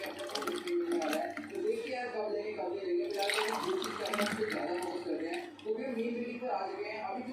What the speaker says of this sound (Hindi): और अब मैं ये ग्लासेस में पोर करूंगी।